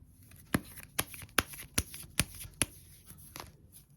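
Tarot cards being shuffled and drawn, about six crisp snapping riffles at a steady pace, close and fairly quiet, with a faint soft rustle between them and no talk.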